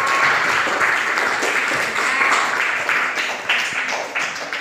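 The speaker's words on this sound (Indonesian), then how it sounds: "Kasih tepuk tangan ya untuk teman yang sudah berani kasih tadi ya." Students in a classroom give a classmate a round of applause, a loud, continuous wash of clapping from many hands nearby that tapers slightly toward the end.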